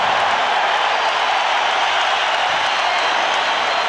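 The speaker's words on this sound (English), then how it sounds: "He stops him, hears it from the crowd" A basketball arena crowd roars steadily at Game 4 of the 1993 NBA Finals between the Phoenix Suns and Chicago Bulls in Chicago, a loud continuous wash of cheering and noise with little break.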